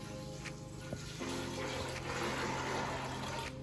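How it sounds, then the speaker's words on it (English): Water pours from a tap into a pot of beans for a seafood chili, making a short, steady gush and splash at moderate volume. "put the water in there"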